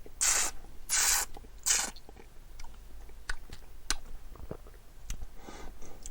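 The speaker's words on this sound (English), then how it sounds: "You have to chew this a bit." A mouthful of Kingsbarns Balcomie Lowlands single malt Scotch whisky is chewed up close, giving three loud wet swishing bursts followed by quieter scattered smacks and clicks, with no talking.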